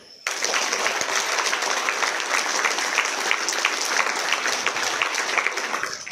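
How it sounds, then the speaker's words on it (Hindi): Loud, steady applause from a seminar audience on entrepreneurship, dense clapping that starts abruptly and continues unbroken for about six seconds. "ताली जोर से बजाओ।"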